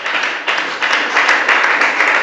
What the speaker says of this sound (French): Nous acclamons très très fort pour notre Seigneur